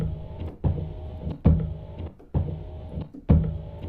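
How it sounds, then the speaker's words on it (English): A car windshield wiper sound effect is played on a keyboard. Four evenly spaced swishing sweeps sound in a steady rhythm, each rising sharply and then trailing off, alone and fairly quiet. "So I'm just going to solo these wipers."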